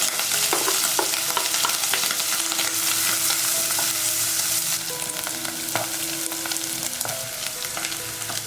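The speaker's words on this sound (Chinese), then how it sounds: "接着我们来把鱿鱼跟香菇炒香， 油温热了再放进来。" Squid and shiitake mushrooms stir-fry in hot oil in a wok, throwing off a loud, continuous hiss and crackle. A spatula scrapes and taps the pan now and then, with no one speaking.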